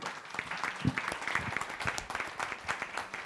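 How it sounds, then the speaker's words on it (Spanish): An audience at a social security forum in Mexico applauds a deputy with a crisp, moderately loud burst of clapping that carries on steadily throughout. "recibamos con un fuerte aplauso al diputado Ignacio Mier Bañuelos"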